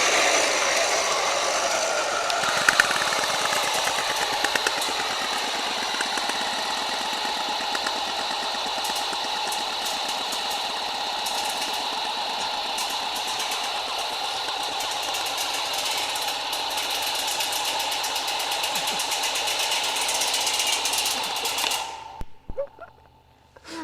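An airsoft robot's machine gun fires BBs nonstop in a fast, buzzing mechanical rattle with a whining motor tone. The sound is loud and close, runs for about twenty seconds and then cuts off abruptly.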